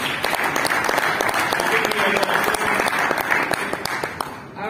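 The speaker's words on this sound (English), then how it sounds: "so a big round of applause for him." A business networking audience gives a dense, sustained round of clapping for a drone and aerial mapping presenter, loud and even throughout before cutting off abruptly at the end.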